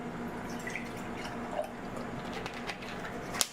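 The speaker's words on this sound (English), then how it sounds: "So I'll add some more of this dead Mountain Fresh spring water." Mountain Fresh spring water trickles and drips into a container, with soft wet splashes and a few sharper drip sounds near the end, close and fairly quiet.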